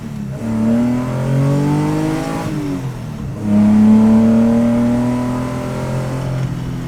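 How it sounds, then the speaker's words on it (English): A 1971 Nissan Skyline Hakosuka with a 3-liter engine revs hard twice, each run climbing and then easing off, with a deep, strong tone close by. "This does not feel at idle like a car that has a 3-liter engine."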